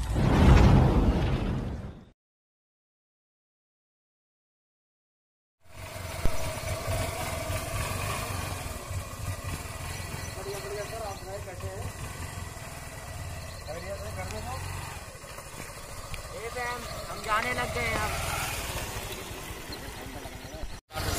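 A motorcycle being ridden on the road, its engine running steadily with wind rush after a brief loud burst and a stretch of silence. People talk over the engine noise.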